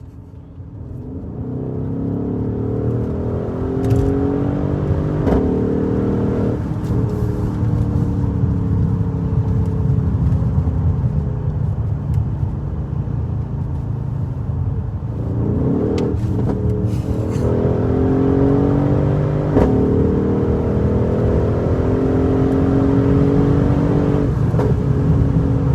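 A Mercedes-AMG GLE63 S with its 5.5-litre twin-turbo engine accelerates hard, a loud, continuous rising engine roar heard from inside with gear changes breaking the pull every few seconds.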